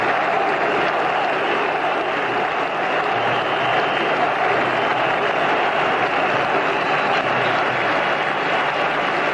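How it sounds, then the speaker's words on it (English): Thousands of Pakistan supporters fill a cricket ground with steady, dense applause and crowd noise during a 1999 World Cup semi-final against New Zealand, holding an even level throughout without a clear break. "Wasti acknowledges the applause of the thousands of Pakistan supporters in the ground"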